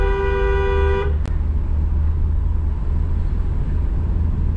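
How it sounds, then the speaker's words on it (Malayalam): A tipper truck rumbles past close by on the road, a steady low engine drone throughout, with a brief horn toot at the start. "ഒരു വണ്ടി പോകുന്നുണ്ട് ഒരു ടിപ്പർ"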